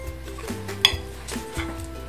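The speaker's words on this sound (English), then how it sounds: "And then I'm going to add the cilantro. Stir that around" Homemade guacamole with cilantro being stirred in a bowl, soft wet scraping strokes with a light utensil clink partway through, close and moderate over a low steady background hum.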